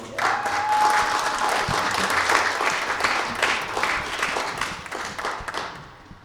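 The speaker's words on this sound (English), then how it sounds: "Y'all, give him a round of applause." Loud, dense applause from a crowd at a live music performance, sustained clapping for several seconds before tapering off near the end.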